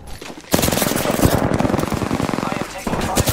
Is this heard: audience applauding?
no